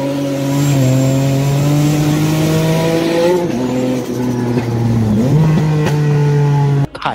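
An Acura TL SH-AWD engine revs loud and close, holding a steady high drone that rises and dips through several throttle changes before cutting off abruptly.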